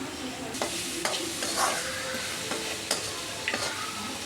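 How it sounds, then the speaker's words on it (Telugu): Poha seasoning with coriander is stirred and fried in a pan: a constant close sizzle with repeated scraping spoon strokes about every half second. "బాగా కొద్దిగా ఫ్రై అయ్యేంత వరకు కలుపుకుందాం."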